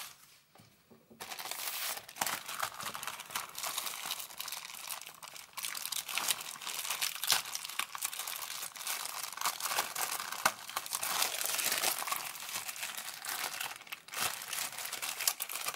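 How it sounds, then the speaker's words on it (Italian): A small package being opened, with continuous close crinkling and rustling of wrapping, occasional sharper tearing crackles, fairly steady and quiet after a brief silent start. "Poi andiamo ad aprire il nostro pacchettino"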